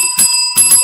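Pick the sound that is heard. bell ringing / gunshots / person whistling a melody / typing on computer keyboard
bell ringing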